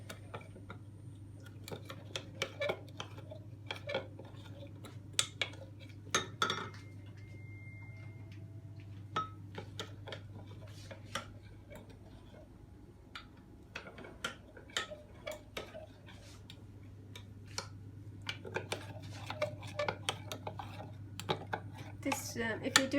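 Custard and sugar are stirred in a bowl, producing quick repeated clicks and taps of a utensil against the sides over a low steady hum, with a voice talking at points underneath.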